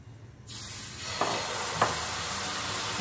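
Rava dosa batter hits a hot nonstick tawa greased with oil, and a sudden sizzle starts then holds steady, with a couple of sharp spits and pops along the way.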